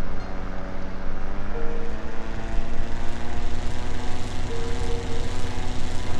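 An An-2 Colt propeller aircraft engine drones steadily while taxiing in the Falcon flight simulator game, a loud, continuous buzzing hum whose pitch holds nearly level with slight shifts, and no voices.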